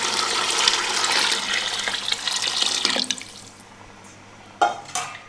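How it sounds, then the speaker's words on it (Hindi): About two litres of water pour into a pot of channa pulao with rice, a loud steady splashing that runs for three seconds before tapering off, followed by a couple of brief clinks and splashes. "अब इसमें 2 लीटर पानी डाल देंगे।"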